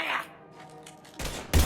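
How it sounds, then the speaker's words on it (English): Gunfire erupts in the Mass Effect 3 video game, two sharp broadband bursts arriving near the end after a stretch of quieter game sound and a voice, the second blast loud and close. "Now open fire!"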